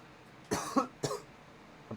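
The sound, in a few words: cough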